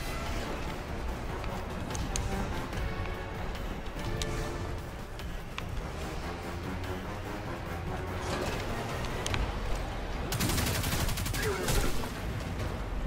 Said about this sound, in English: he has a slug shotgun apparently